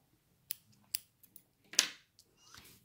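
Scissors cut crochet yarn in a few quiet crisp snips, with one louder snip near the end and a soft rustle after, close and otherwise silent.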